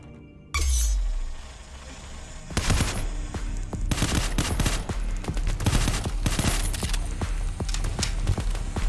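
Rapid shotgun blasts and gunfire in the cyberpunk roguelike Phantom Proxy: a burst of dense, loud volleys with glassy clinks, repeated clusters of shots across the whole stretch after a brief quiet start.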